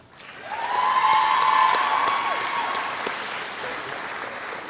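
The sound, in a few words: audience applause at graduation ceremony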